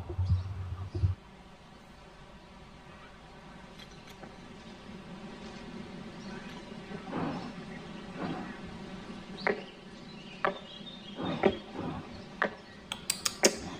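Faint, sparse boot footsteps in a hushed flag-raising ceremony at Merdeka Palace, Jakarta, a few sharp boot scuffs and taps standing out against quiet background murmur.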